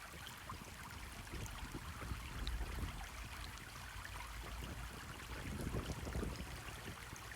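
River water flows in a continuous, soft rushing and trickling wash, steady and fairly faint, with no voices over it.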